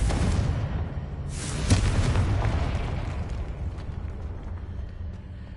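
A Confringo fire spell bursts in Hogwarts Legacy: a loud, broad explosive boom erupts and rolls off into a long, rumbling decay, heard alone without talk.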